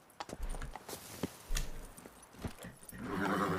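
Geralt's horse in a Witcher video game, its hooves clip-clopping in an uneven rhythm at low to moderate volume, followed by a brief whinnying sound near the end.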